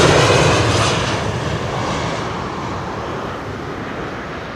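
Transavia airliner arriving at Schiphol, a loud broad jet roar that is strongest at first and slowly fades as the plane passes, with no voices over it.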